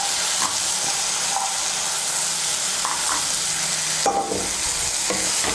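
Green peas are stirred into frying masala for a Bengali potato and fish curry, giving a loud continuous sizzle with spoon scrapes against the pan.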